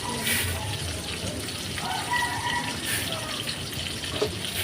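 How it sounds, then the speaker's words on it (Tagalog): Hot water is poured in a steady, continuous stream, a close splashing rush that holds for several seconds with small bursts of spatter and no one talking. "ilagay na po natin yung mainit na tubig"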